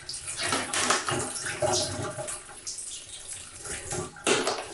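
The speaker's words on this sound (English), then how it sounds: "I decided to rinse off the whole plant just for the sake of it." Running water rinses a sick orchid plant with root rot and mold, a close, continuous splashing and trickling that shifts in intensity as the stream hits roots and leaves.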